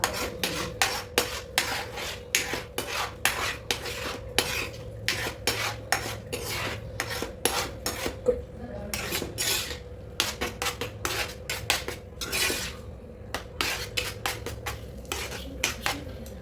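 Semolina (rava) for pineapple kesari is stirred and sautéed in a pan, with a spoon scraping and clinking against the metal in quick irregular strokes over a faint background sizzle, close and without speech.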